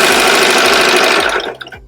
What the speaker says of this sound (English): Then lower the presser foot and then just keep stitching straight down the next side.